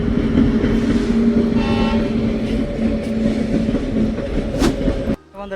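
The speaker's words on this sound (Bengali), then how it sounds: "এখানে বন্ধুরা একটা ট্রেন ঢুকছে" A train pulls into Malda Town railway station with a loud, steady rumble of rolling wagons and a brief horn-like tone near the end before the sound cuts off.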